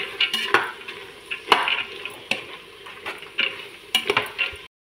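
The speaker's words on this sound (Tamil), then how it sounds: "நல்லா வதக்கி விடணும்." Ginger garlic paste and peanuts are stirred in a pan, with soft sizzling and repeated scraping strokes of a spoon against the metal, close and intermittent, with no voices.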